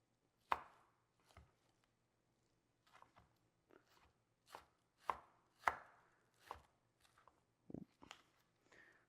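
Thin, very sharp Nakiri knife slicing through beef on a cutting board, a series of about a dozen crisp, close knife strikes at an irregular, unhurried pace against a low steady hum.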